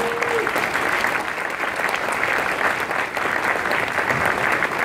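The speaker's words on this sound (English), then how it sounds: "may I all ask you to give a round of applause, please, to the Rebel Live team" Audience applause at a Rebel Live event, thanking the volunteer team: a steady, dense wash of clapping from a large crowd, loud and continuous throughout, with a brief whistle-like tone near the start.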